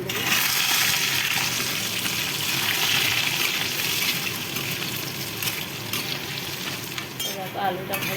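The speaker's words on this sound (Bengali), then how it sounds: "দেখো আলুটা দিয়ে দেবো, জিরা দিয়ে দিয়েছি, আলু দিয়ে দেবো।" Potatoes frying in a pan with cumin seeds give a steady, dense sizzle with occasional stirring scrapes, close and fairly loud throughout, with no talking over it.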